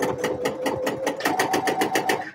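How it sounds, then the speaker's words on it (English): A sewing machine stitches fabric at a steady, fast rhythm, its needle thumping in evenly spaced strokes with a faint motor whine underneath, close and moderately loud. "I know I'm sewing in a hangout."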